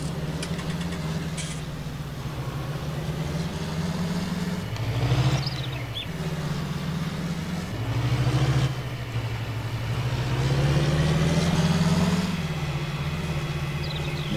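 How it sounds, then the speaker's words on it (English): A John Deere tractor pulling a John Deere seeder in a farming video game, its engine droning steadily with a low rumble that rises and falls in a few load swells, heard alone and close. "Now this is a John Deere rig."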